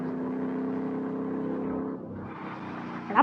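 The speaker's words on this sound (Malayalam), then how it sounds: "ഡ്രിഫ്റ്റ് അടിക്കുകയൊക്കെ ചെയ്യുന്നുണ്ട്" A BMW in the Car Parking Multiplayer game drifts with a steady engine drone that dips and then rises again in a rev, ending in a short sharp burst; no talk.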